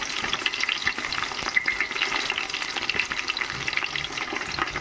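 Tomato and carrot pieces fry in oil for prawn biryani with a crackling sizzle and scattered pops. Stirring clicks are mixed in, close and steady throughout.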